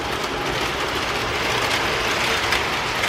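A continuous rushing rumble and clatter of an old train from around 1955 on its first run after repair, loud and steady for the whole stretch, with no voices.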